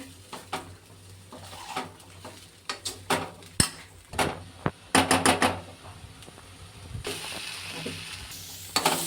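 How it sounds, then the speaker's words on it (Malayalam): A spoon stirring raw banana thoran with turmeric, chilli powder, coconut, salt and cumin in a pan, giving irregular close scrapes and knocks against the metal over a faint sizzle. "എന്നിട്ട് നന്നായിട്ട് ഇളക്കി കൊടുക്കാം"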